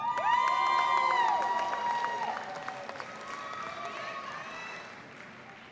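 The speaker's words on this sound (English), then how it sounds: "How about one more round of applause for our graduates" A graduation ceremony crowd claps and cheers, with whoops and shouts over steady applause that slowly fades.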